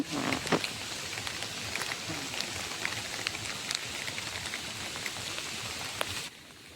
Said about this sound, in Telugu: మళ్ళీ వర్షం అయితే స్టార్ట్ అయిపోయింది